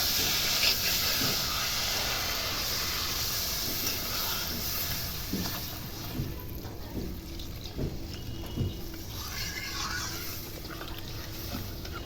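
Water poured into a hot pan of spiced potatoes for a village-style rohu fish curry sets off a continuous hiss and bubbling steam, loud at first and gradually settling, with faint clinks underneath.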